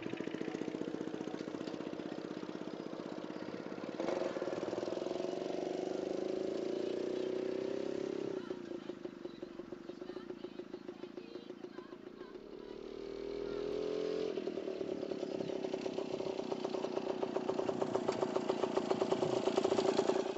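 A 1935 Express SL 98 motorcycle, kick-started and then idling, its small engine puttering close and steady for about twenty seconds, dipping briefly before picking back up.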